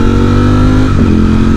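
A Triumph Speed Triple 1200 RR motorcycle engine revs up close, a loud, smooth and steady drone with a slight dip in pitch partway through, heard alone.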